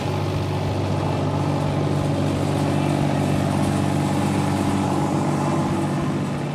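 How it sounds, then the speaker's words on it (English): A rug dusting machine with polyester straps beats the back of an oriental rug, giving a dense, continuous mechanical drone with rapid even thumping pulses, loud and steady throughout with no talk. "This particular rug dusting machine is made up of polyester straps that will gently beat the back of the rug to beat all the dirt and dust out"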